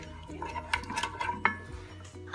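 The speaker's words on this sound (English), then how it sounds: "Just gonna stir all of this in" A utensil stirs sugar and salt into a pizza dough mixture in a bowl, with soft scraping and a few light clinks of metal on the dish, close but quiet, and a faint voice in the background.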